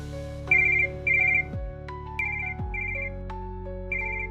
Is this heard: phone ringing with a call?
yes